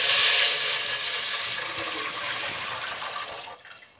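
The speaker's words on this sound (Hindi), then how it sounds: "मैंने ये 1 जग पानी का डाला है" Water from a jug pours into a pan of sautéed chopped green chillies while making besan khandvi, a steady loud splashing gush that tapers off after about three and a half seconds, with no talking.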